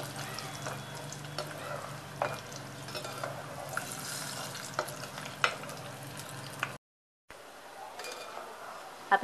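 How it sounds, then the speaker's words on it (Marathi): Peanuts fry in hot oil for sabudana chivda, a soft continuous sizzle with occasional clinks of a spoon stirring the pan. The sound is fairly quiet, with a brief silent gap near the end. "आता आपण शेंगदाणे तळून घेणार आहोत आणि छान असे ब्राऊन करून घेणार आहोत."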